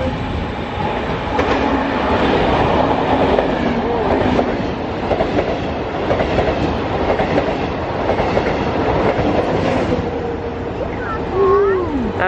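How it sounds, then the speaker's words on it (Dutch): Italian intercity train at a station: a continuous rumbling rail roar with rhythmic clacking wheel noise, fairly loud and close, with voices talking over it and a brief squeal near the end. "Deze trein gaat naar Rome."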